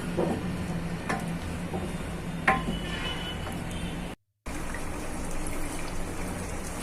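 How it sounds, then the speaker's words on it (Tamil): Egg curry made with steamed egg cubes simmers in a pot on a low flame, giving a steady, soft bubbling and trickling hiss that is cut off by a brief silent gap, with no voices. "நல்லா கொதிச்சிருச்சு"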